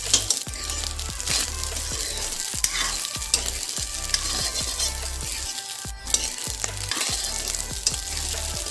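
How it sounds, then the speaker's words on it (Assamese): Cooked rice being broken up and stir-fried with a metal spatula in a pan alongside shiuli flowers, giving a steady sizzle punctuated by repeated sharp scraping clacks of the spatula against the pan. "ভাতৰ মাখাবিলাক মই খন্তিৰ সহায়ত এনেকৈ ভাঙি দি আছোঁ"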